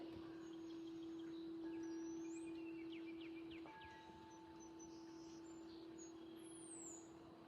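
Birds chirp and sing softly in the distance over a steady background hum, with brief high calls scattered throughout.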